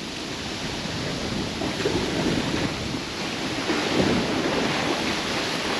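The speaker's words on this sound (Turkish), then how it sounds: "Biraz rüzgar ve dalgalar çıktı." Continuous rushing of wind and choppy waves on a lake at a Swiss campsite, a broad steady roar with gusts buffeting the microphone, no voices.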